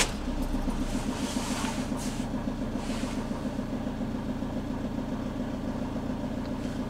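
A Citroen Relay camper van's engine starts with a brief burst, then settles into a steady, low rumbling idle close by, with a faint rattle running through it.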